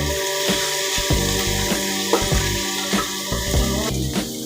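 Chili paste fries with translucent onions in a pan, giving a loud, close, continuous sizzle and bubbling broken by occasional spoon knocks and scrapes, with nobody talking.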